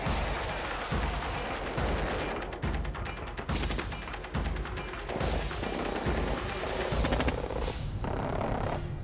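Indian battle tanks and artillery fire shells during a large military exercise near the Pakistan border in Jaisalmer and Barmer, with repeated heavy booms and rumbling blasts rolling in a steady, dense barrage throughout.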